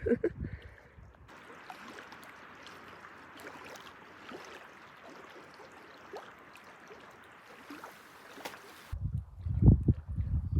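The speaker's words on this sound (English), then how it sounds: "just sitting here beside the water listening to the swish, swish, swish" Water laps and swishes at a backcountry lakeshore in a light wind at dusk, a soft, continuous wash with faint irregular splashes, with close handling noise at the start and end.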